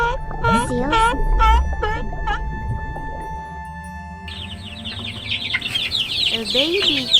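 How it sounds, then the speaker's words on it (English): A baby chicken gives a quick run of high, rising peeps and clucks near the start. Other chirping and tonal animal-like calls follow later. "A baby chicken."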